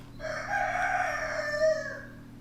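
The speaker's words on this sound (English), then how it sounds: "every time I make a good move, the rooster appreciates it" A rooster crows once, clear and fairly close, in a single drawn-out call of about two seconds over a quiet background.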